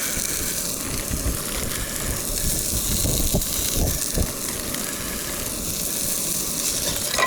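Shrimp and meat frying in a pan at a solo motorcycle campsite in Arizona's Mogollon Rim, giving a steady close sizzle with occasional scraping stirs and no talk.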